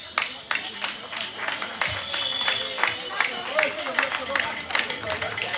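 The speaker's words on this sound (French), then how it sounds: "Est-ce qu'on peut se lever pour applaudir pour cette petite-là?" A crowd claps in scattered, uneven applause at a First Communion celebration, fairly close, with voices murmuring underneath.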